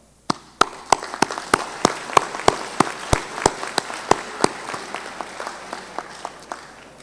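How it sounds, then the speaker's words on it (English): Evenly spaced, crisp claps ring out one after another in a steady rhythm for honor students at a 2010 high school yearbook ceremony, suggesting a single clapper or a small group rather than a full crowd. "I just want to give you this a round of applause myself"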